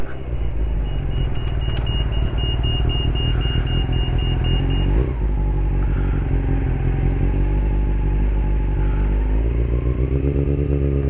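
A Honda CB400 Super Four motorcycle engine idles roughly and unevenly close by, a continuous low rumbling throb with a faint rattle, alone without speech.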